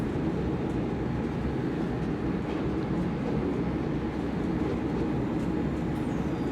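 A steady, loud rolling rumble of an ÖBB 1116 Taurus Railjet electric locomotive and train cruising in Train Simulator 2016, continuous wheel and track noise with no talk.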